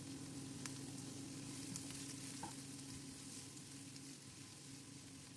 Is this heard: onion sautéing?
yes